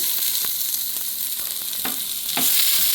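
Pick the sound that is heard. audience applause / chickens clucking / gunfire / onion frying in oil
onion frying in oil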